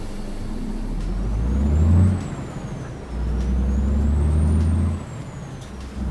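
A truck's air handbrake releases in American Truck Simulator, a short hiss over a loud low diesel idle, and the engine rumble rises and dips as the rig pulls away, with no voices.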